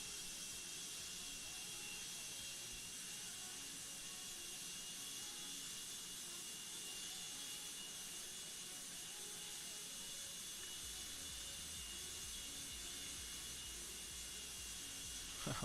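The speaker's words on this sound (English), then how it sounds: "APU is running." Boeing 757-300 auxiliary power unit running steadily in a flight simulator, a constant faint hissing whine with a low rumble joining near the end.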